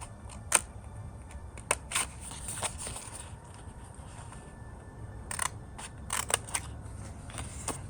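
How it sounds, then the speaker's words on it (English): Scissors snip through fabric while making a sewn eyeglasses holder, giving quiet, sparse, sharp cuts with pauses in between over a soft background. "First, you're going to cut the square here."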